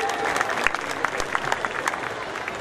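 A crowd at a village fair (mela) claps loudly and continuously, a dense wash of applause with scattered voices underneath.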